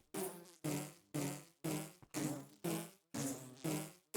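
A bee in a Minecraft-style video game gives a series of eight loud, close, buzzy bursts in steady rhythm, each clipped off sharply before the next.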